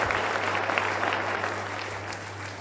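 A church congregation applauds together, a dense, steady burst of clapping that fills the room and fades slightly toward the end.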